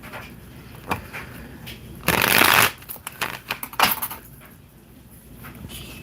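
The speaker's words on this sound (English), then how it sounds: "I'm going to pull a card." Tarot cards being shuffled and pulled: a burst of riffling card shuffling followed by several sharp slaps and flicks of cards being handled, close and moderately loud with quiet room tone between.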